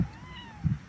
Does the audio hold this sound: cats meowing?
yes